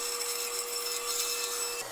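A bandsaw slices small circles out of ash wood, a steady high-pitched whine and rasp of the blade cutting continuously, close and even, ending with a slight shift in tone.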